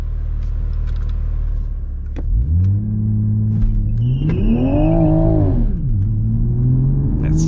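A 2020 Toyota Supra A90 on a dyno idles with a deep rumble, then revs up in a rising, wavering surge before the engine bogs and sags back down, loud and close with no talk.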